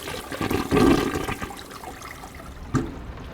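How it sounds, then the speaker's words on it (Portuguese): A toilet flushing in the Layers of Fear Remake horror game: a rushing gurgle of water that swells quickly, then drains away into a trickle, followed by a brief second splash. "Da descarga, né?"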